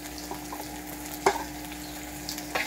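A soft, steady sizzle of carrots frying in a pan, with a couple of faint clinks and stirring scrapes, no voices.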